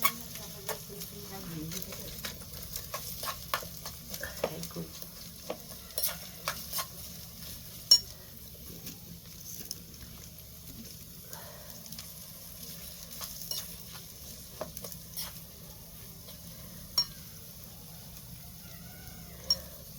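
Onions frying in a pan for haleem in a small home kitchen: a low, steady sizzle runs throughout, with scattered stirring clicks and scrapes, fairly quiet and without talk.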